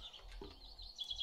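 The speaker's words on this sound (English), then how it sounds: "Nasty, nasty birds." Birds in the 7 Days To Die video game give short, faint, high chirps, a few quick tweets repeating near the end of a quiet moment.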